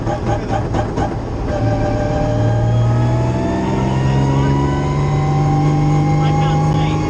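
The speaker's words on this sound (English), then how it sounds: "There's too much traffic anyway." Loud road traffic heard from inside a car, with a vehicle engine droning and rising in pitch as it passes close by, over a continuous rumbling background.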